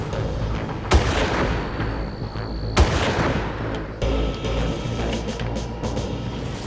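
Gunfire in the Far Cry video game: three sharp, loud booming shots spaced a second or two apart over a constant rumbling game backdrop, with no speech.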